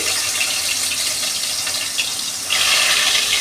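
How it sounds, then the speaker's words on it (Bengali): Rohu fish pieces slipped into hot oil in a wok, giving a steady broadband sizzle that swells louder near the end, with no talking. "দেখো তেল দেওয়া হয়ে গেছে, তেলও হয়ে গেছে, মাছগুলোকে আস্তে আস্তে ছেড়ে দিই"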